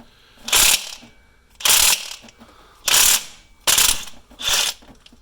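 Impact wrench loosening a reverse-thread tensioner pulley bolt on a Saab B234/B235 engine, five loud, close rattling bursts of about half a second each, evenly spaced with short pauses between, no talking.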